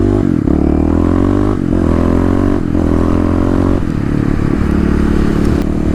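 A Kawasaki KLX351 dirt bike engine roars close and loud while being ridden, its steady drone rising and dipping through several gear changes over a few seconds.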